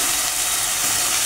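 Vegetables of potato and carrot frying in a pan hiss and sizzle loudly as water is added, a steady broadband steam rush filling the short moment with no voices.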